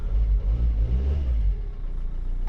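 A car engine with 4,600 km on it runs close by in a vehicle impound lot, a deep steady rumble rising slightly as if revved, then settling back to an even drone.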